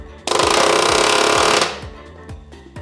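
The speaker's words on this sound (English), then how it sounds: "so I went out and got a pneumatic palm nailer, and this thing is incredible" Pneumatic palm nailer driving nails into rafter brackets, a loud rapid hammering buzz lasting over a second, then tapering off into quieter taps, close up.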